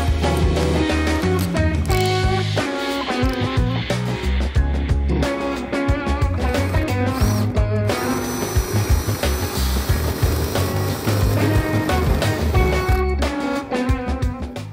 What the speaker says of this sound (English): I'll drill the main hole first, get the cable in